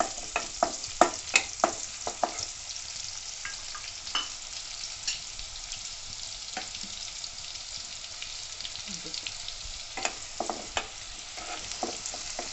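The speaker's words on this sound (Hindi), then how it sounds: "ये हरी प्याज इसमें मिला देंगे। इसको 1 मिनट तक सौते करेंगे।" Green onions sauté in a pan for a Sindhi-style green garlic rice, giving a soft, continuous sizzle punctuated by scattered sharp clicks of stirring, heard up close without talk.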